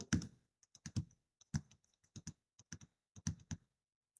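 Bursts of computer keyboard keystrokes typed in quick irregular clusters with short pauses, close and fairly quiet, no voices.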